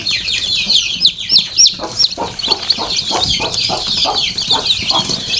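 Newly hatched native chicken chicks peep continuously in high, rapid chirps, several birds calling over one another at close range with a steady background hum.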